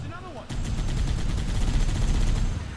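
Loud, punchy sniper rifle shot from Halo: Combat Evolved cracks out suddenly near the start, followed by a dense rumbling tail of in-game gunfire and explosions that fills the rest of the moment.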